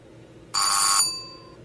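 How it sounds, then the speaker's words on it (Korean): Doorbell rung at a shabby semi-basement villa door, a single bright electronic ring lasting about half a second, then fading out, heard alone against quiet background. "팀장님이 벨을 눌렀다."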